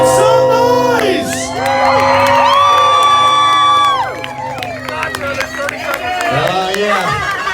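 Crowd at a Howl-O-Scream Halloween event cheering, whooping and clapping loudly for contestants stepping out of coffins after a 24-hour fear challenge, a dense sustained roar with scattered shouts and a host's amplified voice.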